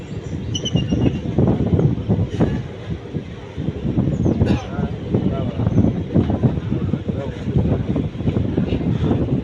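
A superfast express train running from Karur to Trichy rumbles steadily from inside the carriage, with rattling and wind noise throughout and a faint high squeal near the start. A voice speaks over the rolling train.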